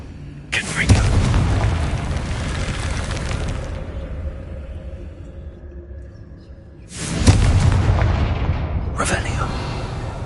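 Confringo fire spell blasts in Hogwarts Legacy: two loud booming bursts with whooshing tails, the first near the start and a second after a quieter stretch, followed by a sharp pop near the end.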